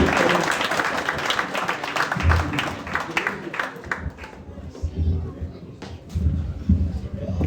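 An audience of Ghanaians in South Korea claps and applauds at a gathering with the ambassador, a brief round of mixed, moderately close clapping over crowd murmur and talk.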